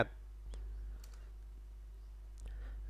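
A computer mouse clicks while drafting in AutoCAD 2023, a few sparse, faint, crisp clicks spaced across a quiet, low-humming background.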